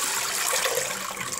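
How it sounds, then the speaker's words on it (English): Cloudy water poured carefully out of a container of aquarium gravel, a soft continuous splashing trickle heard close up and fairly quiet. "You want to pour it out carefully so that the gravel doesn't actually fall out of the container."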